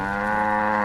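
Video-game cows in Wonderbook: Book of Spells give a single short, sustained, droning moo, close and steady, with no voices heard.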